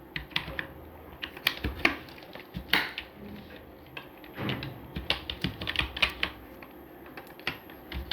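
Python code being typed on a computer keyboard, with irregular bursts of close, crisp key clicks and brief pauses between runs of keystrokes, no voice over them.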